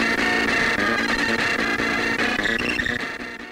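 Dense, busy Commodore 64 SID chip music with buzzy synthesized tones and rapid arpeggios, loud and continuous throughout, fading slightly at the end.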